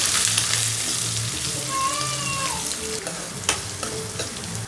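Onions and curry leaves sauté for an aloo kurma curry, giving a steady close sizzle in the pan with occasional stirring scrapes; faint background music runs underneath.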